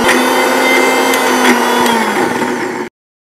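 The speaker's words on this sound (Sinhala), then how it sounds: "ආපහු විනාඩියක් විතර හොඳට බ්ලෙන්ඩ් කරගන්න." Blender running steadily on milk for homemade cream cheese, a continuous loud whirring motor with a slight drop in pitch near the end before cutting off abruptly; no voices.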